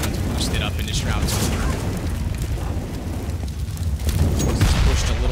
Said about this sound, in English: Nade on top of the Molotov.